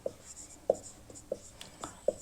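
A heading is written by hand, giving four or five short, distinct strokes spaced about half a second apart. The strokes sound close and crisp against a quiet background.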